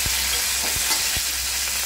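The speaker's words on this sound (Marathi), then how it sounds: "कांदा भाजत आहे, त्याच्यामध्ये आपण आता कढीपत्ता टाकत आहोत।" Onion frying in a pan with curry leaves being added gives a dense, close sizzle, broken by a few soft thuds of stirring, with no voices.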